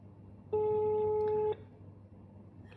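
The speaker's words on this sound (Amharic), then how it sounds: "ስልኳ እየጠራ ነው።" A single steady telephone ringback tone sounds for about one second during an outgoing phone call, then cuts off, leaving quiet room noise.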